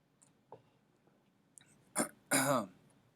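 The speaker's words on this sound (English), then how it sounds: "Sorry, I keep clearing my throat." Someone clears their throat twice in quick succession, close and fairly loud, after a few faint small noises in an otherwise quiet room.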